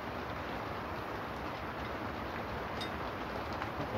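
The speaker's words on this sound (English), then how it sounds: "And the rain is starting to pour" Heavy rain pours outdoors in Holland, a steady, dense hiss that holds at an even level throughout with no voices.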